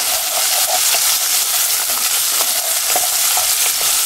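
Onion and garlic sizzle in a pan as they brown, a loud, continuous close-up hiss with faint scraping stirs and no talking.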